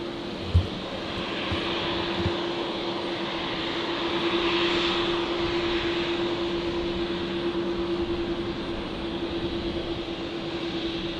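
A Qantas Boeing 737-800 jet at Brisbane Airport, in from Sydney, gives a steady engine roar with a sustained tonal hum, moderately distant and swelling slightly midway, with no talk over it.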